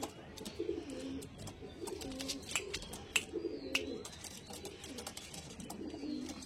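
Several pigeons coo in soft, repeated low bursts nearby, with faint bird chirps and background rustle in between.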